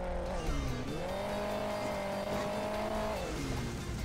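A racing car in the mobile game Hill Climb Racing 2 holds a steady engine drone that rises, dips and climbs again in pitch, loud and continuous for a few seconds with no talking.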